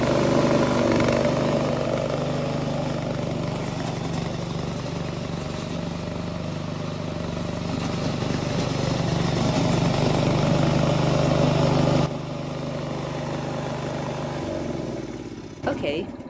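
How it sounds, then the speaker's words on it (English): A VIGORUN brushless remote-controlled lawn mower runs close by with a steady mid-pitched engine hum, continuous for most of the run, dropping in level near the end before stopping, while a person talks over it. "Use the button on the control panel to start the engine."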